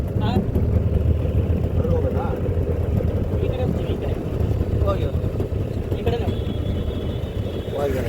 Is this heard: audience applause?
no